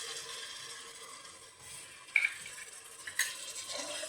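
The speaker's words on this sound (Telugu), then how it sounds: "ఇప్పుడు 2 స్పూన్లు అల్లం వెల్లుల్లి పేస్ట్ వేసి వేయించుకుందాం" Ginger garlic paste frying in a pan with oil for a spicy goat head curry, a moderate hiss with brief metallic spoon scrapes and clinks partway through.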